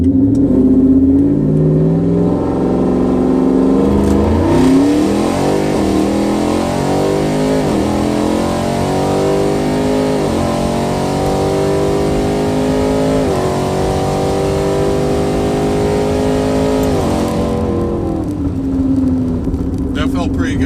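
Twin-turbo 5-liter Coyote engine in a tuned Ford F-150 pickup, four-wheel drive in sport mode, making a wide open throttle pull: loud continuous rising engine roar with repeated gear-shift drops, close and dominant throughout.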